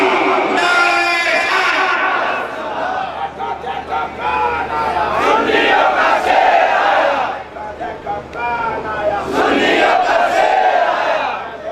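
A large crowd at a religious gathering roars a chanted takbir in unison, with loud swelling waves of voices rising and falling and bursts of shouting throughout.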